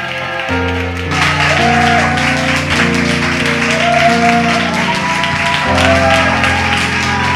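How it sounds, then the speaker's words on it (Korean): A church conference audience in a large hall applauds to welcome a speaker to the stage. The steady clapping runs beneath sustained music throughout. "우리 박수로 우리 하도균 목사님 모시도록 하겠습니다"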